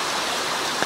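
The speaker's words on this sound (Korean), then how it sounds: "마지막 쯤에 비가 오기 시작했어요." Steady rain falls at a campsite in a mountain valley in Pyeongchang, a dense, even hiss heard close by with no voices.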